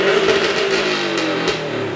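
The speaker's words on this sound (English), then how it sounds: "I wanna let you guys hear the exhaust a little bit." Exhaust of a used Subaru being revved outdoors on a below-freezing evening: a loud, close engine roar that swells and eases with the throttle, with no talking.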